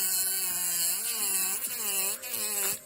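Medium sanding band on a mandrel bit of a nail e-file grinding down hard gel on nails, a steady close whining buzz with wavering pitch that dips briefly as pressure shifts, continuous throughout.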